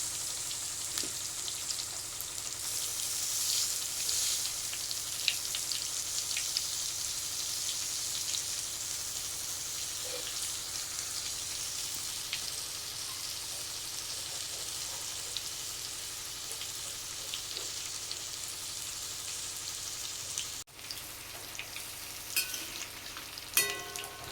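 Stuffed bitter gourds frying in a pan, a steady, even sizzle with soft crackling that carries on throughout at close range, with no talk.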